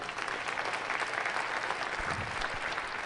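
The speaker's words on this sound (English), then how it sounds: "Let's give them a round of applause." An audience at a school district leadership meeting breaks into applause, a dense, continuous wash of clapping hands throughout.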